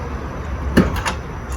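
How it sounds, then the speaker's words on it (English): The boot of a BMW X5 E70 opening, a single mechanical clunk and release followed by a couple of softer knocks, close and alone in a quiet setting. "So let me open up the boot of this car."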